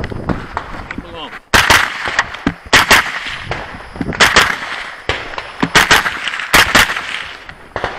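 Sharp gunshots at a pistol caliber carbine match, fired in quick irregular bursts of two or three, loud and close with short echoing tails, over faint background chatter.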